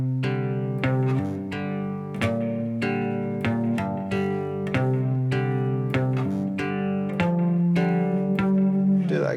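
Cigar box guitar playing blues notes, a steady run of plucked and slid single notes and short phrases about one per second, twangy and close, with no talking.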